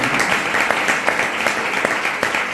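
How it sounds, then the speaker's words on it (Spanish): An audience at a lecture on the Pórtico de la Gloria breaks into applause, a dense, even wash of many hands clapping together for a few seconds. "quiero que le dedicamos un aplauso"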